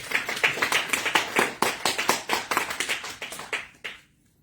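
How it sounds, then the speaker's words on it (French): A church congregation claps for the Lord during a Sunday worship service, a run of brisk rhythmic handclaps that fades out after nearly four seconds. "Acclamons pour le Seigneur"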